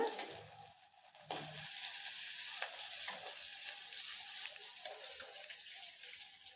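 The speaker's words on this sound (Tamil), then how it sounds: "கொஞ்சம் நல்லா வதக்கி விட்டுருங்க சின்ன வெங்காயத்தை" Shallots and dried red chillies fry in a pan, a soft, even sizzle with occasional light stirring clicks, quiet and close.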